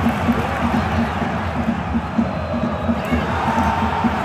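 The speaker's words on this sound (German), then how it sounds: "Es gibt auch Applaus." Distant stadium crowd noise with scattered applause at a Rapid Vienna versus FC Noah football match as an injured player is carried off, a broad steady roar with faint claps.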